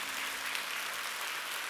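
A congregation applauds continuously during a church worship service, a dense even patter of many hands clapping together, sounding fairly distant with no voices.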